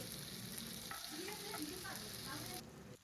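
Okra frying in oil in a pan over a low flame, with a continuous close sizzle and light crackle that cuts off near the end.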